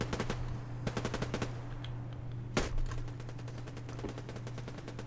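Rapid bursts of machine gun fire in the online shooter Survarium, quick rattling volleys broken by short pauses and one heavier blast midway, crisp and close over a low steady game hum.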